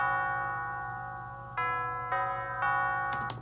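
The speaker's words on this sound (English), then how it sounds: "there's the horns, and then there's tubular bells." Sustained metallic bell tones ring out, then three struck chimes layer on in a slow sequence, bright and resonant, with a noisy burst at the end.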